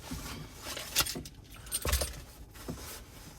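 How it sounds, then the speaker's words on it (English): Keys jingle and clink in bursts while someone climbs into a 2018 Ford Ranger 3.2 TDCi Wildtrak automatic, with sharp metallic rattles near one and two seconds and a softer jangle later, close to the mic. "Get the keys."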